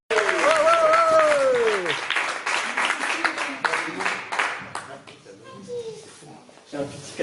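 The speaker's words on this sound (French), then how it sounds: "Je vous demande d'applaudir très fort." Applause from an audience at a slam poetry evening in a media library in Vence, bursts of clapping mixed with a voice and crowd chatter, fading then rising again near the end.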